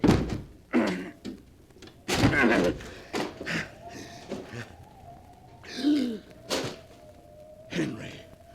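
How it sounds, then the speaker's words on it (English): A locked door is broken down in a 1945 radio drama: several heavy, loud thuds and crashes strike at intervals against a low steady hum, with brief sounds between the blows. "The door's locked. I'll have to break it down."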